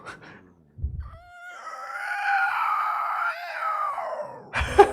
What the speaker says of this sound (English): Here's a demonstration of how a sound mixer might take White's raw screams and add effects to make them more powerful.